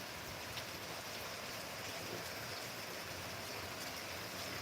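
Steady rain falling, a dense even hiss of drops with a faint patter on surfaces, continuous and moderately quiet with no voices.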